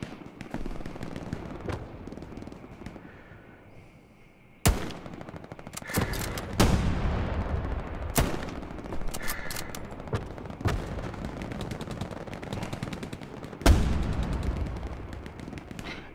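Repeated sharp gunshots in Hell Let Loose, single and paired bursts spaced irregularly over a steady low background rumble, loud and close.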